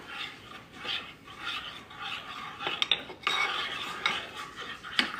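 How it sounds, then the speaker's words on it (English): A scone mixture with orange zest is stirred in a bowl, making soft scraping strokes with a few sharp clinks of a utensil against the bowl, quiet and close, with no talking. "And then we're gonna give this a good stir."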